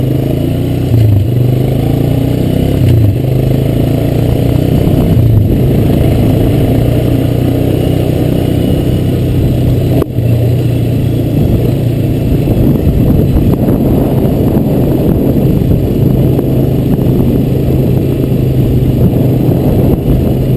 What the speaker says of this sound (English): I'm gonna ride up here.